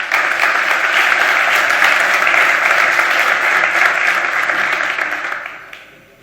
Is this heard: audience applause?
yes